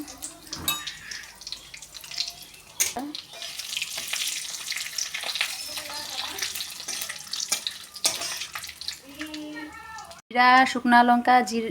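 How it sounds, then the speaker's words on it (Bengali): Cumin seeds, dried red chilies and bay leaf fry in hot oil in a kadai, giving a steady crackling sizzle that runs through most of the clip, with a voice heard near the end. "জিরা শুকনা লঙ্কা তেজপাতা ভাজা, লাল করে ভাজা নেওয়ার পর"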